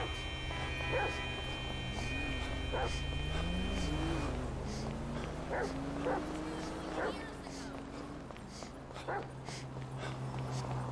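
A small dog yips and barks repeatedly in short bursts in GTA 5 while someone talks, over steady engine-like hum and music.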